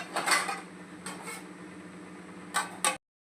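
A metal lid clinks onto a pan of potato and cabbage sabji, a couple of light clatters near the start and two sharper knocks at the end, close and fairly quiet.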